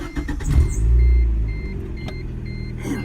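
A 1990 Mazda 323 drives along with a low engine rumble that swells briefly as it pulls away, then settles into a steady road hum, heard from inside the car.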